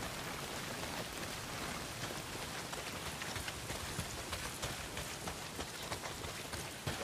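Steady heavy rain pours down in the open world of Days Gone, a dense constant hiss with patter on surfaces throughout, no talk over it.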